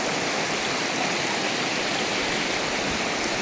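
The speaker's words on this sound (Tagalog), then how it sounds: "Lakas ng ilog." A river swollen after a typhoon rushes with strong current, a loud, unbroken roar of churning water with no voices.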